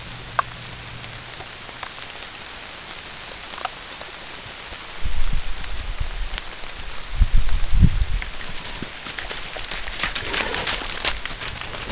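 Steady rain patters on the ground and foliage in the Newfoundland woods, recorded by a trail camera, with faint scattered drips and a few low thumps in the middle; no voices.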